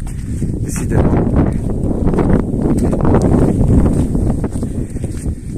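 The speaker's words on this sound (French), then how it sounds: "Il y a vraiment du vent et ça va être catastrophique pour le son" Strong wind buffets a microphone outdoors, a continuous loud low rumble with gusting surges throughout and no speech.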